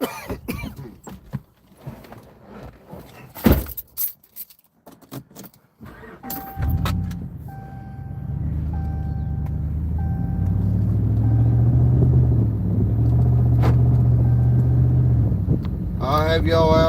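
Keys jangle and a pickup truck's engine starts beside a fishing pond, then runs in a steady low rumble as the truck rolls down the bank, with a cough and brief voices early on.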